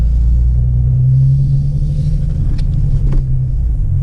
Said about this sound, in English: Okay, so now we're just doing a short drive.